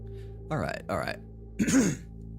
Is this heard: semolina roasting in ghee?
no